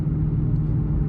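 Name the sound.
Mustang GT with X-pipe exhaust pulling up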